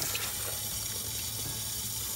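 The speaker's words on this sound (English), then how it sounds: "Let's get some nice warm water." Warm water runs steadily from a tap or shower for bathing a hedgehog, a continuous close hissing splash with no voices over it.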